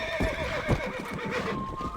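Quick clip-clopping hoofbeats of a galloping horse in the video game Red Dead Redemption, with a shrill whinny rising over them, sounding close and fairly loud.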